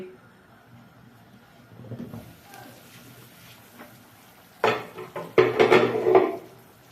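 Soft kitchen shuffling, then a few clanking knocks as a metal lid settles onto a pot of lentil soup, near and fairly loud.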